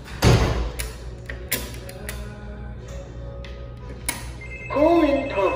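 A phone rings in short repeated electronic bursts amid thumps and handling noise during a model's photo shoot, with a tonal warble near the end and some voices in the background.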